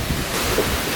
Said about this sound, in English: That's some pretty good wind right there